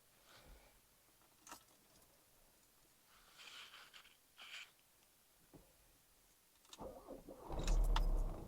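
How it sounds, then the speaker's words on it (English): Rare Volkswagen Golf Mk1 GTS: faint mechanical clicks and whirs, then the engine cranks and fires near the end, growing loud and rough as it catches. "Today we are going to take the very rare Mark 1 GTS for a POV drive"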